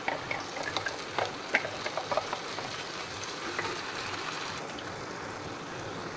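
Onion-tomato paste sautés in a pan for a paneer curry, a close, steady sizzle broken by light scraping stirs and faint spatter ticks.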